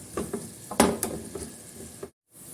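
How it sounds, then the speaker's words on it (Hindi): Chopped onions sauté in a hot pan for dhaba-style moong dal tadka, a steady soft sizzle with a few stirring scrapes and clinks of the spoon against the pan, close up, breaking off abruptly near the end. "अभी हम प्याज को सौते करेंगे"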